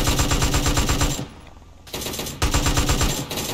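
Rapid automatic gunfire in GTA San Andreas with a PUBG battlegrounds mod, loud and close, in dense bursts with a brief lull before firing resumes.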